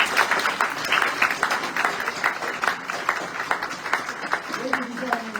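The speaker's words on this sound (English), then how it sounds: "Please give all of our candidates a round of applause." Audience applause at a candidate forum for Washtenaw County sheriff: steady, dense clapping from a room of people, fairly close and sustained throughout, with no speech over it.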